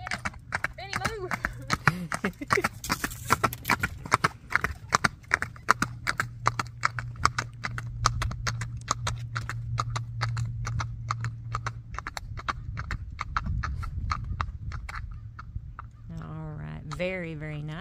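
Rhythmic hoofbeats of a Tennessee Walking gelding clopping in a quick, even four-beat gait, close and steady for a long stretch, with brief talk and a whinny-like call near the end.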